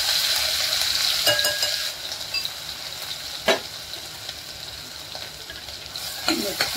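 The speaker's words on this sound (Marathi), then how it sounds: "त्याला तेलमध्ये चांगलं परतून घ्यायचं आहे आपल्याला" Ground masala sizzles and fries in hot oil in a home kitchen while rasam vada is being made, with a steady hiss, occasional spoon scrapes and clinks against the pan, and short sharper stirring sounds.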